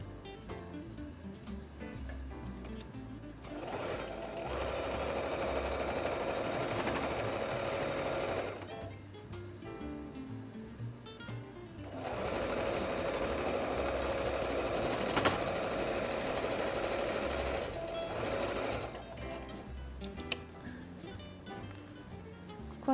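A sewing machine stitches a seam in fabric for a small dress on a handmade cloth doll. Two sustained whirring runs of several seconds each are separated by a quiet pause, and the machine sounds close and moderately loud.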